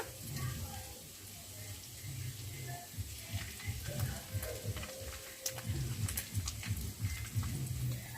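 Ginger paste hitting hot oil in a pan, a soft steady sizzle with faint stirring taps, quiet and close.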